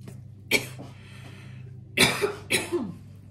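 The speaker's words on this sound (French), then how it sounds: "donc là je tousse à fond" A woman coughs hard in three separate bursts, the first alone and the last two coming close together, loud and near against a faint steady background hum.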